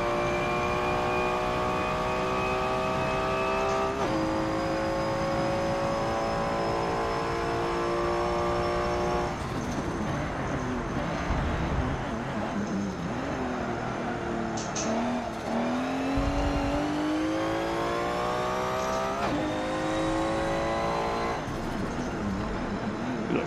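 Race car engine revving through a lap in Forza 7, a continuous loud drone whose pitch climbs and drops with gear shifts, with a brief tire-squeal dip midway.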